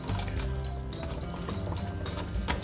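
Ricotta sauce poured into a pot of ragù for lasagne, a close wet, sloshing pour with soft splats and spoon clatter, continuous and moderately loud.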